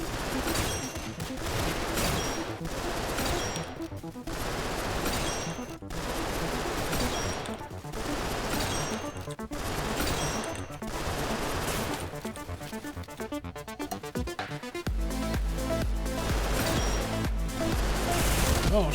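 Rapid video game gunfire from a DMR and other weapons crackles in dense bursts throughout, loud and continuous with short gaps, and a heavier beat joins near the end.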